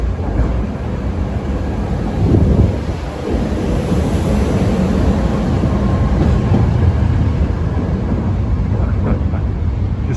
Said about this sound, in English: Lowly patronized branch, and it shows it only has 1 car. Train 1083 to Kinwood.